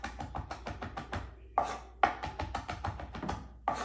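A kitchen knife mincing fresh garlic cloves on a cutting board: a quick run of crisp, close chopping taps in uneven bursts, with brief pauses between flurries and no voice.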